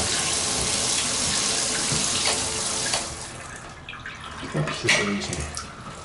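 Water runs from a handheld shower wand and drains into a bathtub in a newly fitted bathroom, a steady broadband rush for about three seconds that cuts off and leaves faint handling knocks and a few drips.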